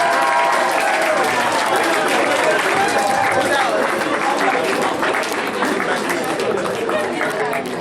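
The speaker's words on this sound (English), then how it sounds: "Let's give him a big round of applause." Audience applause at a grad night hypnotist show, a loud, dense and steady wash of clapping that runs the whole time with crowd chatter and voices mixed in.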